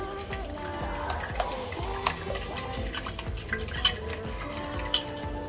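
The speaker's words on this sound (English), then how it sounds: "I'm going to add in eggs, and then of course I'm going to mix everything" Eggs being mixed into apple batter in a bowl, with steady stirring and soft scraping against the bowl and light clinks of a utensil throughout, close and moderately loud, no talking.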